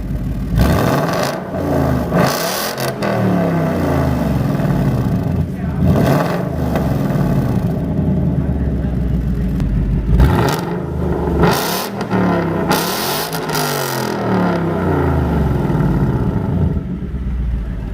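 A loud S550 Ford Mustang engine with a modified exhaust revs repeatedly, rising and falling in bursts with a deep, throaty exhaust rumble, close by.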